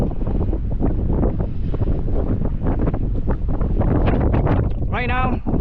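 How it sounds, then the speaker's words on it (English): Strong gusty wind of about 20-25 mph roars across the microphone on the rocky summit of Bishop Peak, a loud continuous buffeting rumble throughout. "Right now, the wind is blowing at about maybe 20-25 miles per hour."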